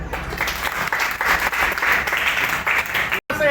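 A crowd applauds at a felicitation for the owner of a misal restaurant opening in Sambhajinagar. The clapping is dense and steady throughout, with a brief dropout just before the end.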